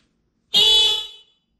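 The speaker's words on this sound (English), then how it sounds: "There's the horn, and this goes. As I said, it's loud. It's a motorcycle horn." One short, loud, bright honk from an electric motorcycle horn mounted on a recumbent trike, close by, cutting off after about a second of silence.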